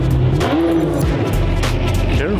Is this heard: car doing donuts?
yes